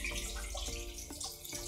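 Indoor waterfall in a room full of houseplants, a steady close wash of running, splashing water with no talk over it.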